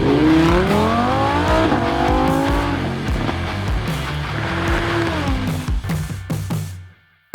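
A very fast race car roars loud and close, its engine climbing through the gears in rising pitch sweeps, then easing off with sharp rattling bursts before cutting to near silence at the end.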